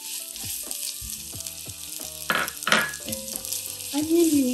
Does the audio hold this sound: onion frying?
yes